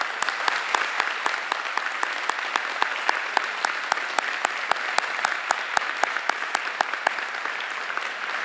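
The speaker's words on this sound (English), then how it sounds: "Let's give them a huge round of applause here." An audience at a middle school 8th grade recognition ceremony applauds the students with steady, sustained clapping, sharp individual claps standing out throughout.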